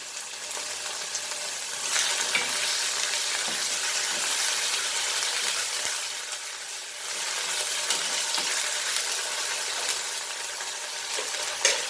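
Ginger garlic paste and chilies frying in a pan for dry Goan channa, a bright, steady hiss and sizzle with slight surges, no talking.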